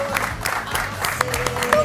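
Studio audience at an Argentine lunch talk show clapping, a continuous patter of hands with scattered louder claps, fairly distant and moderate in level.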